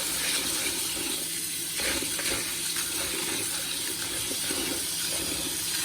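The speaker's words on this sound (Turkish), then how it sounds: "Evet şimdi buğdayımızı önce bu güzelce yıkıyoruz." Wheat grains washed in water for hedik, a Turkish boiled-wheat dish, with a steady running-water rush like a tap into a sink, continuous and fairly close, with no talking.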